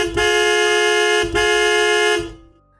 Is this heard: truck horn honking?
yes